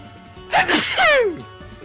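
A single sneeze nearby in a radio studio, with a sharp intake followed by a loud burst, heard alone against quiet room tone.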